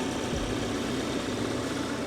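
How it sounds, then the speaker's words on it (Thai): A 2021 BMW 530e M Sport engine idles steadily with a low, even rumble and slight vibration, no voices over it. "ผมขอเงียบสัก3วินะครับให้คุณลูกค้าฟังเสียงเครื่องยนต์นะครับ"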